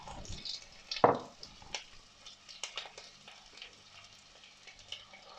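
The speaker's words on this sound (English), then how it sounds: "I'll add a bit of extra virgin oil. Then add my onions and let it simmer." Onions hit extra virgin oil in a pan, producing a quiet, uneven sizzle with a sharp clack near the start and scattered soft crackles and pops throughout.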